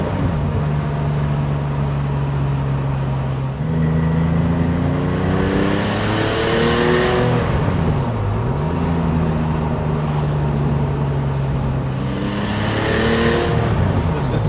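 Inside a 1983 Porsche 911 SC cruising in Friday afternoon traffic, the flat-six engine drones steadily, its pitch climbing through gentle accelerations and dipping with gear changes, loud and continuous from the passenger seat.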